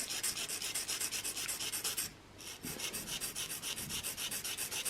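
A stone rubbed with WD-40 against a turbo engine part makes a steady, rhythmic rasping scrape in quick repeated strokes, close and fairly quiet, with one short pause partway through.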